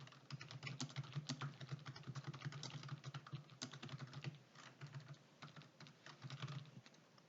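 Rapid typing on a computer keyboard while entering a chart title in an Excel spreadsheet, a steady run of close, crisp key clicks with brief pauses, no voices.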